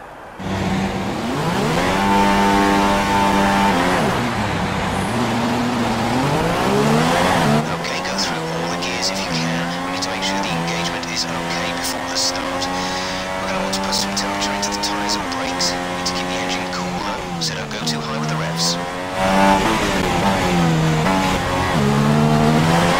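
Red Bull Racing F1 car engines in F1 2016 at the Spanish Grand Prix start, a loud sustained high-pitched revving that climbs and falls in pitch several times, with the whole grid roaring together and some tire squeal.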